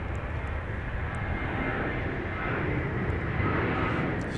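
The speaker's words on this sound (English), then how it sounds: "I think we've got a flight going out to LAX. Let's see if we can catch it going out on 13" Passenger plane departing Dallas Love Field bound for LAX, a steady broadband jet roar that holds loud and constant throughout, slightly swelling toward the end, with no talk over it.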